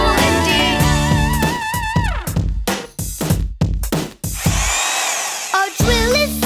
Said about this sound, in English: A drill is such a great tool indeed.